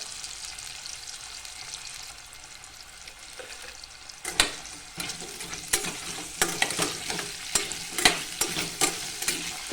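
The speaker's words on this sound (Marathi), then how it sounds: "आणि थोडंसं पाणी टाकून छान परतून घेणार आहे" Potatoes sautéing in a pan with a little water and salt for an aloo matar dish, a quiet sizzle that turns into repeated sharp scraping stirring strokes in the second half.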